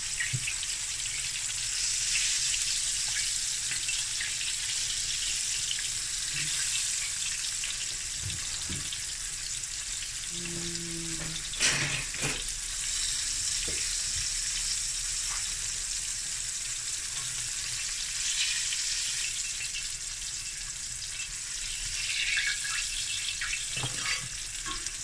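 Fish for Cape Malay pickled fish fries in a pan, a steady close broadband sizzle running throughout with a few brief clinks and scrapes near the middle.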